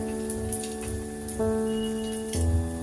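Battered topshe fish frying in hot oil, a continuous close sizzle that jumps louder twice as more pieces go in, with a faint steady tone running underneath.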